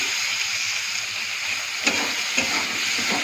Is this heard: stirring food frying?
yes